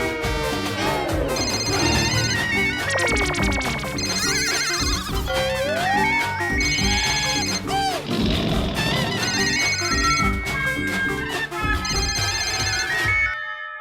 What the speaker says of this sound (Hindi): सर, मेरी बीवी का फिर से फोन आ रहा है